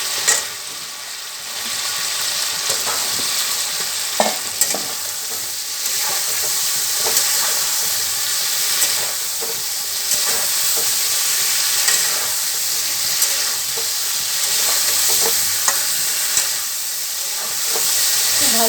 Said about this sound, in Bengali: এইবারে আমি বেগুনগুলো দিয়ে দেবো দিয়ে একটু ভালো করে কষিয়ে নেব